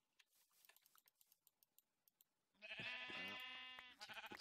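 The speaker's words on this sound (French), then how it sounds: "Allez, on va prendre les petits moutons là-bas au fond." Minecraft sheep bleat loudly and repeatedly for over a second, a wavering nasal call that follows a stretch of faint clicks and taps.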